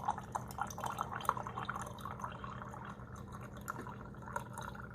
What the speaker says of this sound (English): This is spring loaded, so you do have to hold it down to get the water out.